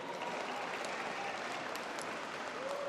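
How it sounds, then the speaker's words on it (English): Audience at a Filipino Heritage Month reception applauding friends and supporters: a soft, even wash of many hands clapping, distant and continuous without a break. "a big round of applause for all our friends and supporters here"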